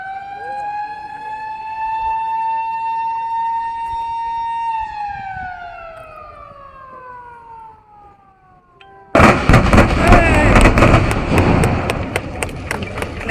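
Rock blasting at the Wayanad twin tunnel entrance: a long wailing siren that slides downward, then a sudden loud, rough roar of the explosion that lingers to the end.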